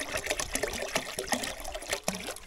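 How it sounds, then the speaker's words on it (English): Home brand white vinegar pours briefly into a pot for cooking yabbies, making a short, close liquid trickle and splash with slight gurgling. "Just going to add a small amount of white vinegar"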